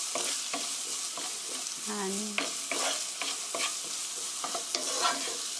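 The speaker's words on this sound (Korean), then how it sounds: "양파가 노릇노릇하게 될 때까지 볶아주세요" Onions stir-fried in a pan for orange chicken, a steady close sizzle with repeated scraping strokes of a utensil and a brief clink partway through, no voices.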